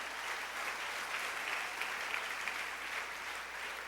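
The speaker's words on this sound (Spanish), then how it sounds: "Denle ese aplauso a Jesús esta noche." A church congregation claps in sustained, dense applause at an evening service, a steady even roar of many hands filling the room from start to finish with no voices standing out.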